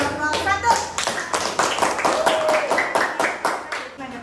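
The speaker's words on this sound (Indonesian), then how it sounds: "Tepuk tangan untuk kelompok 1." Children in an elementary school classroom clap together in a quick, steady rhythm of sharp, close hand claps that fill the room for several seconds, with faint voices mixed in.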